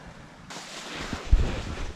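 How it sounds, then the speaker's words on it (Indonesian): Strong wind blowing through swaying trees on a hilltop: a blustery gust that buffets the microphone, rumbling low and swelling louder partway through, with no voices. "Lihat anginnya, lihat pohon-pohon goyang semua, anginnya kencang banget di atas."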